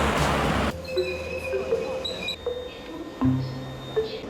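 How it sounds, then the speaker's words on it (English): A passenger train heard from aboard during a race, with a low steady rumble, faint tonal hums and brief wheel squeals, near and continuous. "The Stig, in a close second, was now making his final train change"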